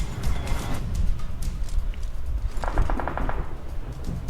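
Automatic gunfire in PUBG Mobile, a rapid burst of shots cutting through a continuous game background, fairly close.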